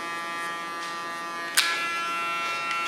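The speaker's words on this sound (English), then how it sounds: "I just cut with the clipper" An electric hair clipper buzzes steadily close up while cutting hair, with a sharp burst of louder cutting partway through and no talking.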